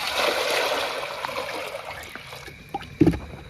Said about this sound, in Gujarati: આપણે કુકરમાં પાણી કાઢી લેવું